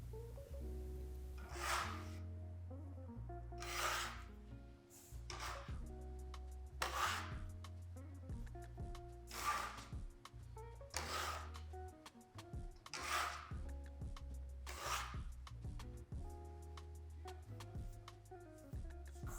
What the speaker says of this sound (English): I like to sort of fold the dough onto itself with the bench scraper